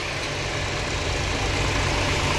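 A farm tractor's diesel engine idles steadily, a continuous low rumbling drone with a constant hum, close and fairly loud throughout and slowly swelling slightly toward the end.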